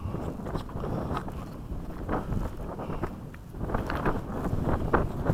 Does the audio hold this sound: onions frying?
no